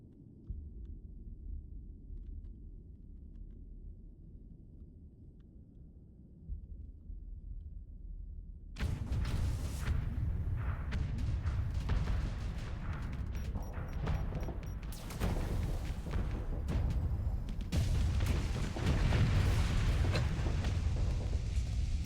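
Ship weapons on an Odyssey fire automatically in Starsector. After a low, muffled hum, loud rapid booming and crackling gunfire breaks out and keeps up continuously, with repeated heavy impacts and no voices.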